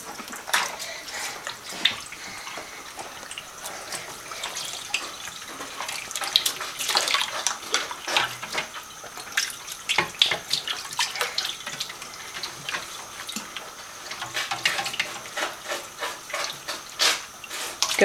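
A young girl plays with running tap water at a sink or tub, producing a continuous splashing, gushing flow close by with irregular splashes and drips throughout.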